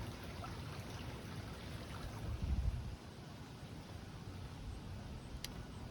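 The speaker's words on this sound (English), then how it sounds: "Now this here is the Maple Leaf Creek, or the Maple Creek." Creek water in a park flowing with a soft, steady, faint trickle and rush, a low swell of wind or handling noise briefly rising partway through.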